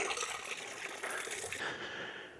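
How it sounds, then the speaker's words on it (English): Running water in a steep, overgrown valley in Scotland, a steady broadband rush that stays loud and continuous, with no talk over it. "Running water and a cool breeze."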